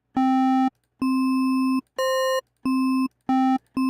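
Raw synthesizer wavetable waveforms sound alone as six loud, buzzy sustained tones of about half a second each, separated by short silences, one pitched higher than the rest.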